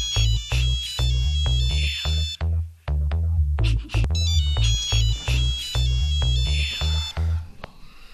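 A repeating electronic phone ringtone melody plays close and loud, its tune cycling several times with short gaps.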